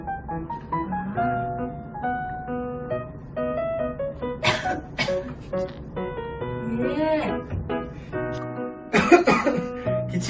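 Someone coughs into a sleeve in several short bursts, close and clear, amid children's and adults' voices and light tonal background sound.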